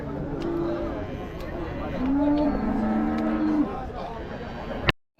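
Buffalo cattle at a cattle market give several deep, drawn-out moos close by, over a busy background of market chatter and people talking.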